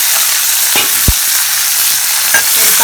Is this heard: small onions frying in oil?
yes